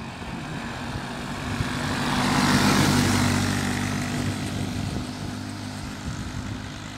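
A miniquad four-wheeler's small engine drones steadily outdoors, swelling louder as it passes close in the middle and then easing off again, with no talk over it.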